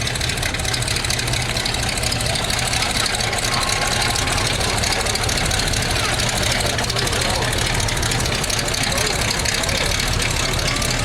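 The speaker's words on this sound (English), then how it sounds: "322 is a 35 Hudson Terraplane." A 1935 Hudson Terraplane car idling in a town centennial parade in Winifred, Montana, a steady low engine rumble under constant outdoor crowd noise and a loudspeaker voice announcing.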